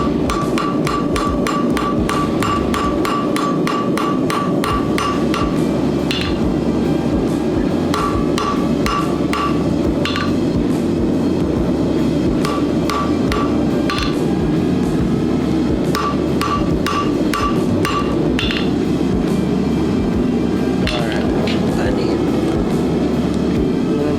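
Hammer blows land on steel while forge welding a dragon head, loud, sharp strikes in quick bursts with short pauses between, over a steady background roar, with voices at times.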